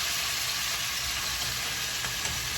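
Chicken and potatoes sear in a hot pan for a fricassee, giving a steady, dense sizzle that stays close and even throughout, with no voices.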